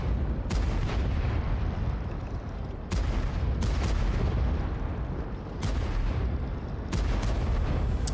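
Tank cannons firing in a World of Tanks Blitz match, cross shots traded on the concept tank at B: a series of about five heavy, booming blasts spaced a second or two apart over a constant rumbling battle bed.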